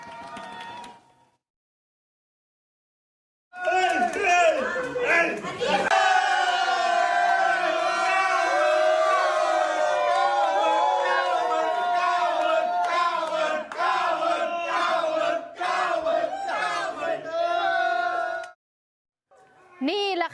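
A large crowd in Thailand roars and shouts together celebrating a provincial election victory, loud and continuous for about fifteen seconds, with a few voices standing out.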